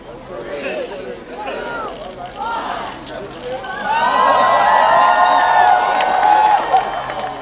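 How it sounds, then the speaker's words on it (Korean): A crowd at an outdoor monument unveiling cheers and whoops, swelling louder midway and holding a sustained roar, with a narrator talking over the early part. "마침내 조형물은 오픈이 되고 환호 소리가 들립니다."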